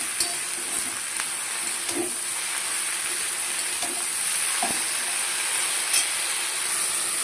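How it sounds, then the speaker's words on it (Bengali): Turmeric and salt being stirred into bottle gourd greens in a pan, with a steady soft sizzle and hiss throughout and a few light scraping knocks of the spoon, close and moderately loud, with no talking. "এবার ভালো করে এটাকে নাড়াবো, মশলাটার সাথে মিশিয়ে দেবো।"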